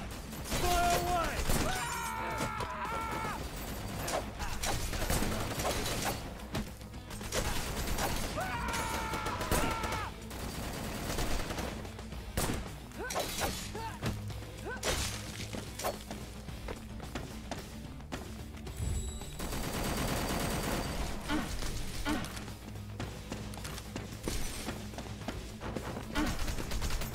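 Gunfire from the video game Wanted: Dead, bursts of shots and impacts running through a dense, busy combat mix of music and effects, with someone talking over it.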